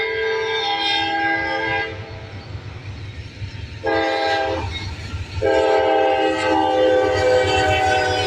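A freight train's horn blares in long sustained blasts, dipping briefly between them, over the steady rumble of the passing manifest train in Ohio.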